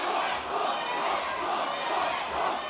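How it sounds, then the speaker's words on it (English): A fight crowd at an AFS2 mixed martial arts event roars and cheers during the third round, a continuous loud wall of shouting voices that swells and dips slightly. "And the crowd really getting into this third round."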